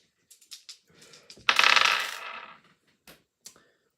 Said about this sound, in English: I'm going to put dice on it before I show it